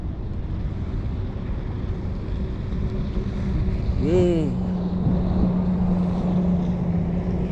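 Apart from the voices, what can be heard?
jet skis passing on the water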